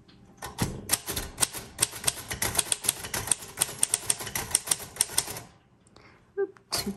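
A 1936 Royal Model O manual typewriter clatters under steady typing, a run of crisp, closely spaced key strikes that stops abruptly, followed by a pause and a couple of softer mechanical clicks near the end.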